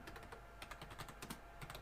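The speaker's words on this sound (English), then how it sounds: "Excuse my bad typing." Fast, uneven typing on a computer keyboard, a steady patter of close key clicks with no voices over it.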